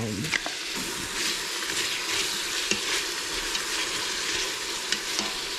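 Garlic, shallot, half a habanero pepper and sweet onion sizzle steadily with bacon in a hot pan, a continuous close frying hiss with occasional pops and stirring scrapes throughout.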